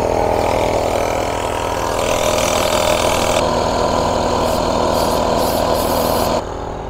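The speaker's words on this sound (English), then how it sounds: "So the dive compressor is quite noisy, which is up the front of the boat." A boat's dive compressor engine runs steadily nearby, a constant mechanical drone with a rhythmic low throb and a slight shift in tone near the end.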